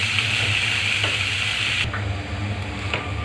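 Chopped cabbage goes into onions frying in a pan for a cabbage and coconut bhaaji, giving a steady close sizzle with faint scraping stirs and no talk.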